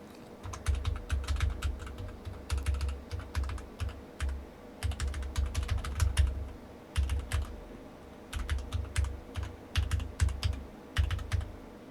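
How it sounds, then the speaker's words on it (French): Steady clatter of keys on a Kemove K61 SnowFox mechanical keyboard, typed in bursts with short pauses, close and crisp with no voices. "le son des touches, hein, c'est un clavier mécanique"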